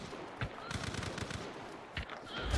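Rapid gunfire exchange in the game Hunt: Showdown, a quick run of muffled shots with a few sharper cracks, fairly quiet and distant-sounding, no talk over it.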